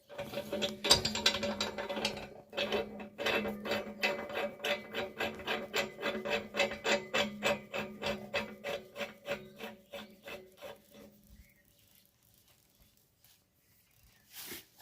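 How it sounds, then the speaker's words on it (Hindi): Metal nut being threaded and turned onto a fitting of a herbal distillation unit, a steady run of rapid rhythmic rasping scrapes close to the microphone that slows and fades out, followed by a single faint knock. "पहले इस नट को इसके अंदर लगा लीजिए।"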